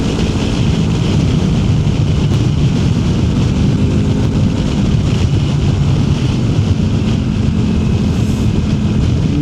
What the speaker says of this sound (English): Oh, I can't believe how windy it is. It's really breezy.